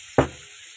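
Two garlic cloves hit a hot pan with a short burst of sizzle that quickly fades to a faint crackle, heard alone without any voices.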